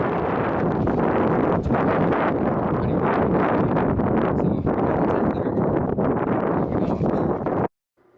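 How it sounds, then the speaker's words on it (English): Strong wind buffets the microphone in heavy, continuous gusts, with rustling underneath, then cuts off abruptly. "That last clip was the best I could get to illustrate just how windy it was"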